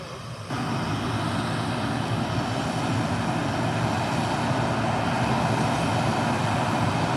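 A Jet2 Boeing 737 taxiing out for departure at Leeds Bradford Airport in stormy weather, its steady jet engine roar swelling in after a brief quieter moment and holding loud and continuous throughout.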